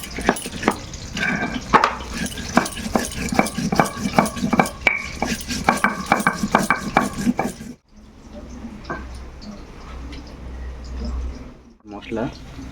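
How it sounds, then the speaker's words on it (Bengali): Cumin, black pepper and coriander ground by hand on a stone slab with a grinding stone (shil nora), steady rhythmic scraping and knocking strokes close up for several seconds, then stopping into quieter room noise. "দেখতেই পাচ্ছেন আমাদের শিল নোড়া নিয়ে রেডি। আমরা জিরে এবং গোলমরিচ আর একটু ধনে দেওয়া হলো, এগুলো বেটে নেওয়া হবে।"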